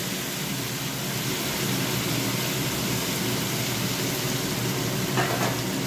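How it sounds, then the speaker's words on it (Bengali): Vegetables fry in a pan while cooking pumpkin greens, a loud, steady, dense sizzle that fills the whole clip without pause, with a brief scrape near the end. "এই যে দেখো সবজি ভাজা হয়ে গেছে"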